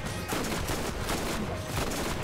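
Rapid bursts of video game gunfire from Borderlands in a co-op session overlap in a dense, loud fusillade that keeps going without a break.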